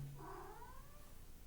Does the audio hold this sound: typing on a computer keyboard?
no